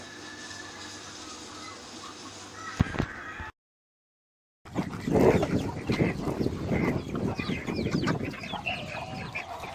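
Chickens at a poultry farm in Al Baha, Saudi Arabia, clucking and squawking up close, dense and busy after a brief gap of silence, with a sharp rooster-like call early on.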